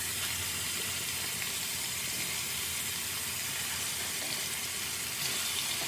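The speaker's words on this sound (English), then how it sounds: "I'm just taking some out as it's finished, so I can add more of the oxtails in to sear." Oxtails searing in a pot give a steady, dense sizzle that holds evenly throughout at moderate loudness, with no talking over it.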